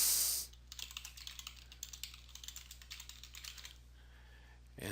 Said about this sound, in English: type the name of the document